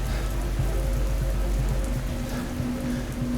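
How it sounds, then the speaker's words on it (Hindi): Steady rain falling through a broken car windshield, dense patter of drops close by, continuous and fairly loud with no voices. "टूटी हुई विंडशील्ड से बारिश की ठंडी बूंदें उसके चेहरे पर गिरती हैं।"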